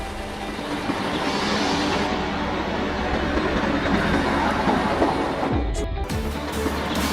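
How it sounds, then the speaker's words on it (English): A track lift vehicle, a switch leveling maintenance train, rolls along railway tracks with a steady broadband rumble and rattle, loud and close, briefly shifting near the end. "This unique train is a switch leveling vehicle, or more simply, a track lift vehicle"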